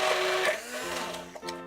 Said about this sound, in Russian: теперь все блендером промешиваем как следует